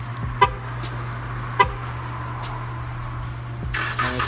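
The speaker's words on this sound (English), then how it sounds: "And it starts right up." Remote start of a 2012 Dodge Charger SXT Plus: two brief chirps followed by the engine turning over and catching, settling into a steady low idle hum outdoors near the car.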